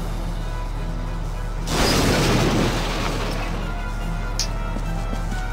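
Grenade blast destroying a barricade in Valkyria Chronicles Remastered, a single loud booming burst over a steady game background hum, decaying over about a second.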